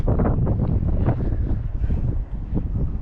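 Strong wind buffets the microphone in a constant low rumbling roar, gusting unevenly with no voices.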